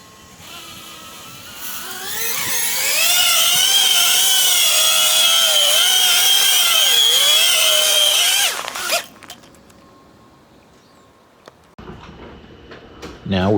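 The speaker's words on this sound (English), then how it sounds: "Thrust test for the BetaFPV 85X 4S" The motors of a BetaFPV 85X 4S quadcopter rise to a loud, high-pitched whine during a thrust test, hold there for several seconds with wavering pitch, then cut out, leaving faint clicks and handling noise.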